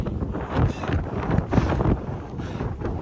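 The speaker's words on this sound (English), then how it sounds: "I can't speak, it's too windy" Strong wind roars and buffets the microphone continuously outdoors during an early-morning run, a loud broadband rush with gusty surges throughout.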